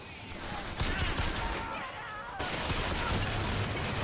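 Video game gunfire in Bioshock Infinite, a dense fusillade of rapid shots in bursts that fills the mix, briefly thinning before resuming.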